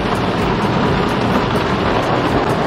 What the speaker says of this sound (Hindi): और बरसात इतनी भयानक हो रही है